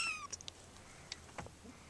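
A kitten meows indoors, faint and short: a few soft high cries scattered over about two seconds against quiet room noise, with no one speaking.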